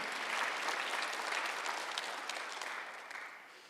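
A Korean church congregation at a Sunday worship service claps in unison, a dense, even round of applause that tapers slightly toward the end.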